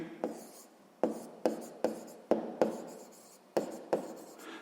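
A pen writes on paper while a sixth-grade math problem is worked out, giving about nine short, crisp scratching strokes in uneven rhythm with quiet pauses between them, close and fairly soft, with no speech.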